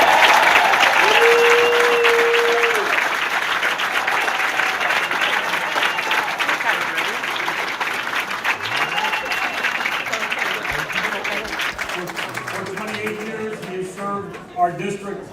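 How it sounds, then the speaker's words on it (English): Sustained crowd applause fills a convention hall for Congressman John Larson at the First Congressional District Democratic Convention, loud and dense, tapering slightly near the end as a voice begins speaking. "ask you to join me in a round of applause for our Congressman John Larson"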